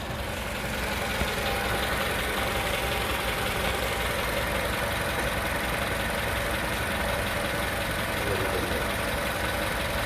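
A car's engine idles steadily after an AMSOIL synthetic oil change, a constant close rumble with a broad hiss throughout, and some talk faintly mixed in.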